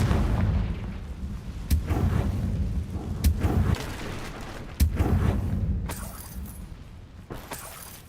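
Repeated fire spell explosions in Hogwarts Legacy, several sharp booming bursts spaced a second or so apart over a steady rumbling game soundscape, with shattering debris and a final crackling blast.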